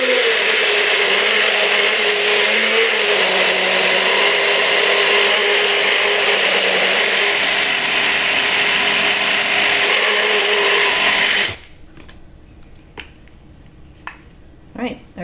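Blender grinding dried chilies into chili powder, a loud steady high whir that runs for about eleven seconds, then cuts off abruptly, leaving a quiet room with faint scattered knocks.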